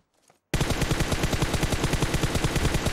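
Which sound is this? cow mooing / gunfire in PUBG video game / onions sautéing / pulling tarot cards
gunfire in PUBG video game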